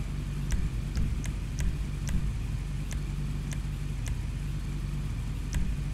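Defiler motorcycle in GTA Online idling with a steady, low droning engine rumble, close and constant, with faint periodic ticking clicks over it and no speech.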